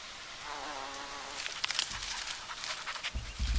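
A bee buzzes close by outdoors at an RV campsite, its wavering drone rising and falling for a few seconds, with scattered rustles and soft thumps toward the end.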